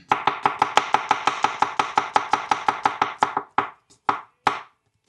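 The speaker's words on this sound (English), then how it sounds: "let's just slice them up." Rapid knife strokes slicing garlic on a chopping board for a chicken pulao, around twenty sharp, even chops in a fast run that slows to a few final cuts, close and loud with no talking.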